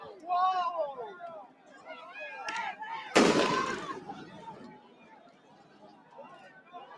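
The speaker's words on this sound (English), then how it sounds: "I think that sounded like a fucking firework." A single firework bangs sharply at a street protest, a sudden loud burst that cuts through people talking nearby and trails off quickly.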